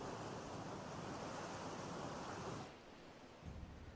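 Ocean waves crashing near Kugani in Final Fantasy XIV, a steady broad roar of surf that drops in level near the end, with no talking.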